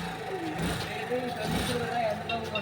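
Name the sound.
mini race car engine running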